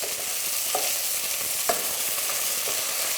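Tomato paste frying in a pan with garlic, onion and ginger, a steady close sizzle broken by a few sharp scraping stirs, with no talk.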